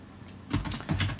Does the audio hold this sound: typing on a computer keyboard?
yes